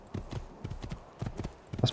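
Horse hooves clip-clopping in the video game Assassin's Creed 2, a quick run of repeated hoof thuds at close range, with a voice briefly heard over them.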